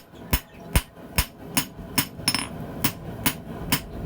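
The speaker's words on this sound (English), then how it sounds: "I just want to tap on it a little just to get the feel for how it works under a hammer" A hammer taps on hard tool steel for a hand-forged hardy hot cut, about ten sharp metallic strikes at a steady, even rhythm, close and moderately loud, with no talking.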